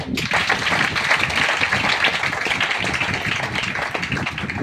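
A crowd at a branch meeting in Patna breaks into dense, loud applause, continuous overlapping hand claps filling the room for several seconds with no talk over them.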